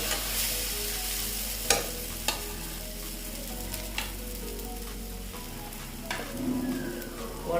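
Egg dhoka sizzles steadily in hot oil in a wok, a close, continuous frying hiss broken by a few sharp spatula taps and stirring sounds.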